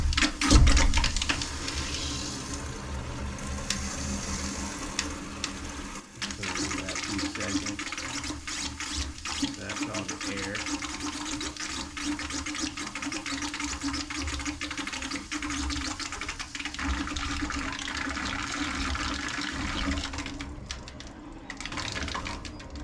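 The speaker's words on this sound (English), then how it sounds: "So right now it's pushing water, but it's also pushing air." Water and air surging through PVC plumbing after a valve is cracked open, a steady loud rushing hiss with gurgling and sputtering that carries on throughout.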